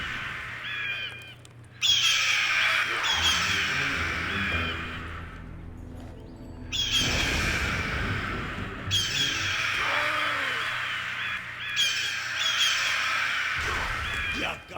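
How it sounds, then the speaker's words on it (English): Summoned birds in World of Warcraft's Zul'Aman raid caw and squawk in loud repeated bursts, mixed with combat effects and game noise. "he summons the birds to attack you"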